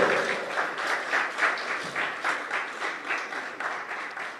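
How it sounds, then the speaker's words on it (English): Audience applause at a prize-giving ceremony in Trinidad and Tobago, a steady, full round of clapping from a crowd that carries on evenly for several seconds without any talk. "Another round of applause"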